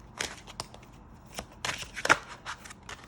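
Tarot and oracle cards are shuffled by hand in short, soft riffles and light card slaps, irregularly spaced and close but quiet.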